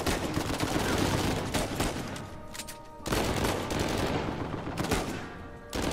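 Gunfire in the video game Uncharted 4, with dense repeated shots in loud bursts broken by short pauses, and no talking.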